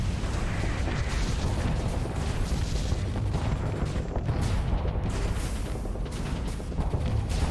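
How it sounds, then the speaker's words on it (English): Starsector space battle with missile fire and explosions, a dense continuous barrage of booms and bursts layered into a loud rumbling wash, no voices. "ooh, that's a fast missile"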